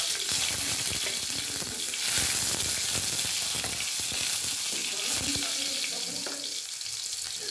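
Garlic frying in a hot pan while cooking corned beef with eggs, a loud close steady sizzle with crackles and stirring scrapes that eases slightly toward the end.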